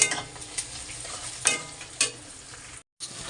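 Prawns and ground spices sizzle while being stir-fried in a pan, with a close, continuous frying hiss and periodic scrapes from the stirring utensil. A brief silent gap comes near the end.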